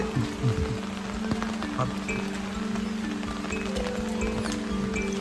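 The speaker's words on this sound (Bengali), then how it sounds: "সকাল থেকে বৃষ্টি হচ্ছে" Steady rain falls on a village on a wet day, a continuous close patter that fills the whole stretch with no voices over it.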